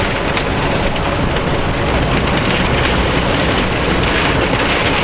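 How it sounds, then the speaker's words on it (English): Heavy rain drums on a big rig truck during a lightning storm, a dense, loud, unbroken roar of drops hitting the cab that stays close and steady throughout with no voices. "with rain this heavy, my brakes can actually get wet"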